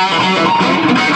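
An electric guitar plays an 80s classic rock tone through a Celestion G10 Gold speaker, with the preamp cranked, short delay and reduced treble, giving a sustained, distorted, harmonically rich chord ringing for just over a second.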